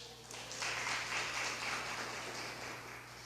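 Congregation applauding during a church worship service, a steady wash of many hands clapping at moderate distance for a few seconds, rising briefly and then easing off.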